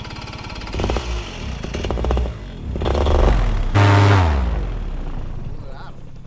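A nitro model engine on a hobby aircraft sputters and revs unevenly after a carburetor low-speed jet adjustment, surging loudly near the end and struggling to keep idling, with a person talking over it.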